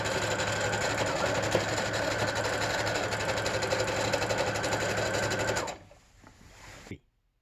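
A sewing machine runs continuously for about five seconds, stitching fabric for a surgical gown with a fast, even mechanical chatter, then slows and stops, leaving a brief quieter rustle before silence.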